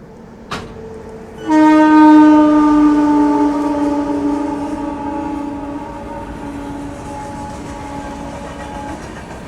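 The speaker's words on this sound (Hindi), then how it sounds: "बिहार की शान बिहार संपर्क क्रांति एक्सप्रेस।" The Bihar Sampark Kranti Express sounds a long, loud horn blast after a brief sharp click, the steady tone fading slowly as the train rumbles past nearby.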